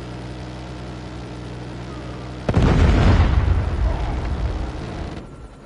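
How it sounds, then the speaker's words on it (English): A Predator missile strike in Call of Duty Mobile hits with a sudden loud explosion midway, its heavy roaring blast and debris rumble slowly fading over a few seconds above steady background game noise. "Friendly Predator missile inbound."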